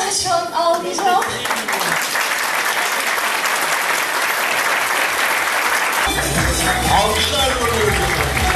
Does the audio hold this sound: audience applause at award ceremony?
yes